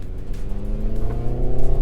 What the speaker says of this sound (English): It's an electric, but as you can hear, you can downshift. It simulates the noise.